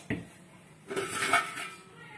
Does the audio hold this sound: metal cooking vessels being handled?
yes